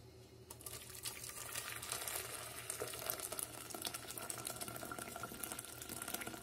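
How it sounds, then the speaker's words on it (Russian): Tap water runs steadily into a pot holding raw chicken in a home kitchen, a continuous close splashing hiss that lasts throughout with no voices. "Помыла ее, залью сейчас водой"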